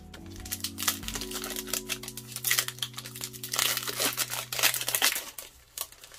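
Crinkly plastic wrapper of a 2021 Absolute Football card pack being torn open and crumpled up close, a steady run of crackles and rips with an electronic hum lingering underneath, no talking.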